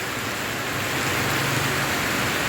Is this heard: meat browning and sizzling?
no